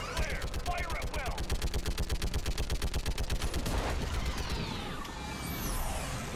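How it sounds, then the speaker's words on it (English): Rapid automatic enemy gunfire in Mass Effect 3, during a fight against a live Reaper on Rannoch. The fire comes as a dense, steady stream of loud shots for about four seconds, then gives way to rumbling battle noise. "What kind of guns are they using?"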